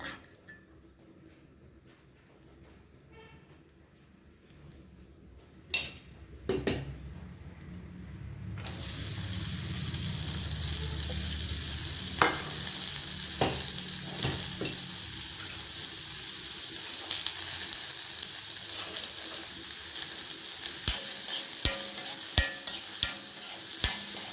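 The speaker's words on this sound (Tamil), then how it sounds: "இதை நம்ம வதக்குவோம். வாங்க வதக்கலாம்." Finely chopped beetroot is stirred in hot oil in a pan, a steady sizzle starting partway through with scraping stir sounds and occasional clinks, preceded by quieter kitchen handling.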